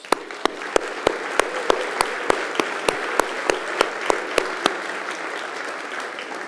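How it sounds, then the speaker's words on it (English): An audience at a downtown Greensboro civic event applauds steadily, with a few sharp, evenly spaced claps standing out above the broad wash of hand clapping. "let's give our city council and city staff a round of applause"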